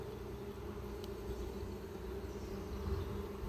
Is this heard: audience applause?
no